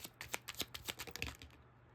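Tarot cards are shuffled in quick riffling bursts, a soft close flutter of roughly a dozen rapid snaps before stopping.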